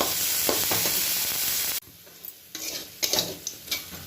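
Onions frying and being stirred in a pan for vegetable fried rice. A steady, close sizzle breaks off abruptly, then comes back in uneven bursts of crackle and spatter, with no voices.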